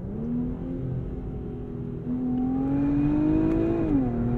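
A 2023 Infiniti Q50 Red Sport drones steadily from inside the cabin. Partway through, the tone steps up sharply as the revs jump on a paddle-shift downshift, then settles into a rising, smooth engine note.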